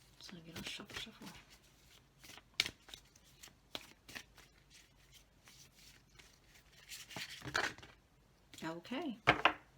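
A deck of Sacred Vision oracle cards is shuffled by hand, with soft riffling and rubbing bursts that come and go while a person talks throughout.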